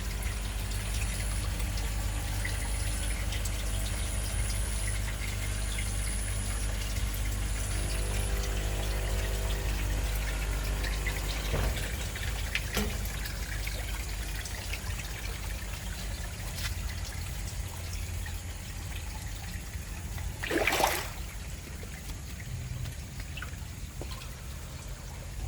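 Water runs out through open drain pipes from a tilapia fish pond, making a steady, soft pouring and trickling that stays fairly constant, with a brief louder gush late on.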